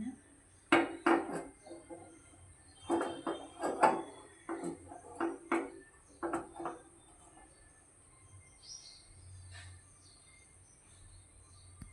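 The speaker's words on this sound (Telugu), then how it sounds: "ఇప్పుడు పోపు వేసుకుందాం సిమ్లో పెట్టుకొని వేత పెట్టుకుంటున్నాను పోపు" Metal utensils clatter and clink against a pan while spices are tempered for a Telangana-style dal rasam. Irregular bursts of sharp knocks and scrapes come close and moderately loud, then fade to quiet near the end, with no talking.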